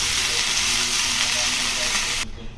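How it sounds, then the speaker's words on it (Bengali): Tomatoes and beans sauté with turmeric, cumin and salt in a pan, making a loud, steady sizzle and steamy hiss that cuts off abruptly near the end. "এবার এটাকে কষাবো,"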